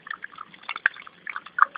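Water spilling over the overflow drain of a simple backyard fish pond tank, which leads into a layered filter, with soft trickling and dripping splashes running close by.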